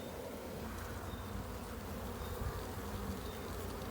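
Dense, continuous buzzing of many honeybees, close and steady, with no voices.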